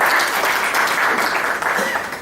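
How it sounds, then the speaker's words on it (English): Audience applause fills a room at a talk on South Africa and India relations, a steady dense clapping that stays loud and even throughout with no voices over it. "give yourselves a round of applause"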